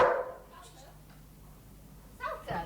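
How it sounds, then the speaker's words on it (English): A dog barks in short bursts at the start and again near the end, fairly close, with people talking around it. "It's a good dog, it's a friend."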